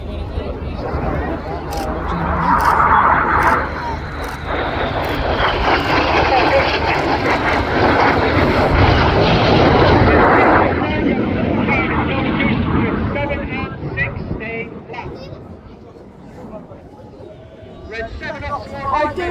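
Red Arrows jets diving in pairs down to about 100 feet over the RAF Cosford airfield, a loud swelling engine roar that builds, holds and then fades as they pass, with commentary spoken over it.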